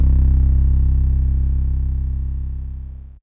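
One long, deep 808 bass note for a trap beat made in FL Studio rings out loud and alone, slightly gritty and buzzing, and slowly fades over about three seconds before cutting off.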